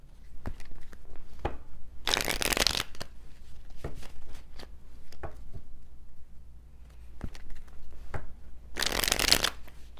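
Intimate Tarot cards being shuffled in two loud riffling bursts, with softer card taps and handling sounds between them; no talking.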